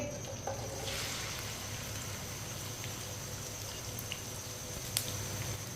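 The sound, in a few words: cut okra frying in a pan over high flame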